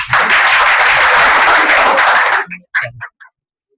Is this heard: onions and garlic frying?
no